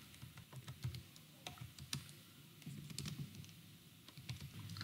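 Typing on a computer keyboard, a steady run of soft clicking keystrokes at close range in a quiet room, with no talking.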